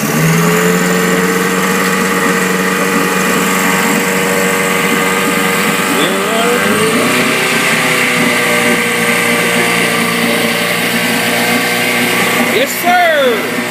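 A customized bass boat's Mercury outboard engine runs loud and steady close by, its pitch climbing and falling as it revs, with brief rises in throttle partway through and near the end.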